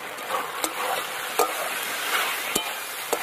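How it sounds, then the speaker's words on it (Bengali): Baby corn stirred with ground spices in a frying pan, a steady low sizzle broken by a few sharp spatula clicks against the pan, close and without speech. "সব কিছু দিয়ে নাড়াচাড়া করে নিলাম।"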